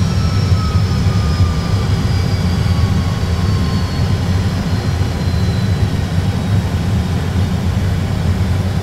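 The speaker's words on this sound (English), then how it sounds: "Reverse thrust set." Airbus A320 jet engines roaring in reverse thrust during landing, a loud steady low rumble with a faint whine sliding downward as the aircraft slows, heard from inside the cockpit.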